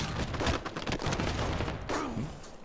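Rapid bursts of automatic gunfire crackle through a Halo 5 multiplayer match, dense volleys rattling in quick succession and trailing off near the end.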